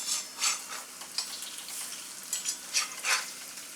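Alu vadi frying in a pan over medium heat: a steady low sizzle with bright crackling bursts and a few light utensil scrapes, close and moderately quiet, no talking.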